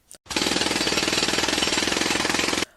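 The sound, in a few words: construction noise, jackhammer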